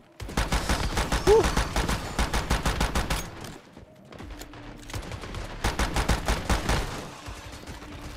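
Video game turrets fire in rapid repeated bursts of loud gunfire, two long volleys split by a short lull, with a brief exhale from a player in between.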